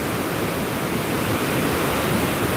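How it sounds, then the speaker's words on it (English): Flooded Hope River in Gordon Town, St. Andrew, after Hurricane Melissa, pouring heavily off a culvert: a loud, steady, broadband roar of rushing water with no break, close and filling the whole scene. "The way this water heavy, we can even see the mist rising up into the sky from the water beating down off the culvert."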